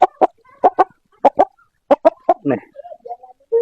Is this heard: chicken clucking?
yes